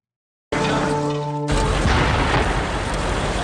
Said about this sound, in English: hearing an explosion over their shoulder